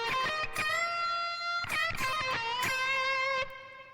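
An electric guitar plays a lick from a solo, a handful of bent and sustained notes in quick phrases with brief gaps, clear and unaccompanied.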